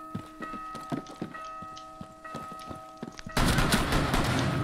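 Gunfire in the video game Rainbow Six Siege: scattered shots over a musical backdrop give way to a loud, sustained burst of rapid firing in the final second or so.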